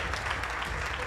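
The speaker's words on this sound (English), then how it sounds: "A round of applause, please." Brief burst of dense applause from an audience at a prize-giving ceremony, a loud continuous patter of many hands clapping together.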